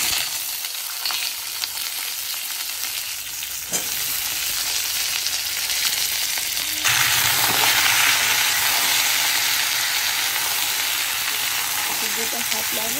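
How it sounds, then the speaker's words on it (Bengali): Spinach is sautéed in a pan over a tempering of cumin, coriander, bay leaf, dried chilli and five-spice. A sharp sizzle swells louder twice as ingredients hit the hot oil, then stays loud and steady with stirring. "দুটো সাতলানোর পরে পালং শাকটা দিয়ে সাতলাম।"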